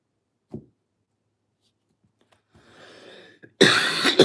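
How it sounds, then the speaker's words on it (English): A single short cough rings out nearby in a quiet room, followed after a pause by soft rustling and then a loud burst of sound. "I don't know why I was coughing so much tonight"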